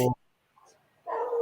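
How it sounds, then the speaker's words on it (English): A dog barks indoors, one short sharp bark followed a moment later by a longer whining yelp, close and fairly loud, with speech nearby. "Oh, just set off some dog."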